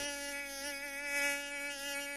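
A cartoon fly buzzes in a continuous, even drone, close and steady with slight wavering in pitch and no talk.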